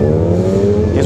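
A motorcycle engine warms up at a street stoppie session in Chicago, a loud steady close idle and rev held through the whole short stretch, with a voice faintly under it.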